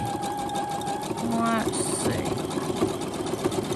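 A sewing machine stitches a regular zigzag across rickrack trim on fabric, a close, steady mechanical whir that keeps running throughout.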